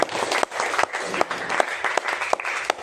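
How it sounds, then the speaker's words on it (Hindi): A seated audience at an RCM business gathering gives a burst of applause, many hands clapping in a lively, uneven rhythm with sharper individual claps popping through, close and continuous throughout. "तो एक बार राहुल जी की जबरदस्त तालियां बजाते हैं"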